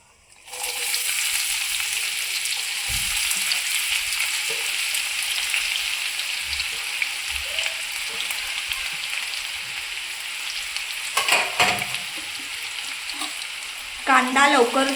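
Onions and whole spices such as large cardamom fry in hot oil, a loud steady sizzle starting abruptly and running throughout, with brief stirring clatter and scraping near the end.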